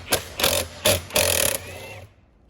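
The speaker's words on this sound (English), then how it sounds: "Now I'm just going to use my extension on my Allen key socket and use the drill to remove them." A power drill fitted with an Allen key socket on an extension removes bolts from a Titan 440 Wagner paint sprayer. It makes four short, close whirring bursts, then falls silent.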